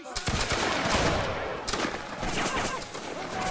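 A Waterloo battle volley of muskets fires on command as a ragged, rolling crackle of many shots that continues steadily for several seconds, loud and dense, with faint shouting underneath.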